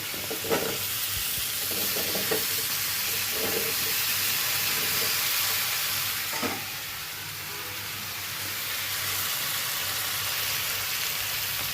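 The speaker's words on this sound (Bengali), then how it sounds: "কাঁকড়া ভাজা হয়ে গেছে, এবার আমি কচুগুলো দিয়ে দিচ্ছি।" Taro root pieces fry with crab in a pan for a curry, a constant loud sizzle and steamy hiss up close, with a few scrapes of stirring and no talking.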